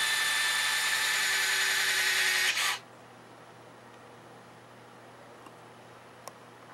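An electric retract module drives the canopy mechanism of an LX RC FA-18 model jet. It makes a loud, even mechanical whir for under three seconds, then stops abruptly, leaving near silence.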